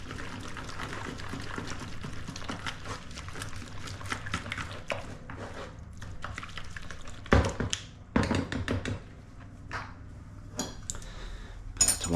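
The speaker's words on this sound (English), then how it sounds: "So let's just whisk those eggs in there." Eggs are whisked in a bowl, heard as quick, light clicking and tapping of the whisk against the bowl, fairly quiet and irregular, with a few louder clinks near the end.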